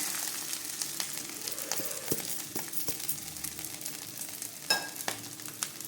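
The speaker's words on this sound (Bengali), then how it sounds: "আদাটাকে হালকা ভেজে নেব যাতে আদাটা পুড়ে না যায়।" Ginger frying lightly in ghee in a pan for basanti pulao, a steady soft sizzle with scattered faint clinks and stirring scrapes throughout.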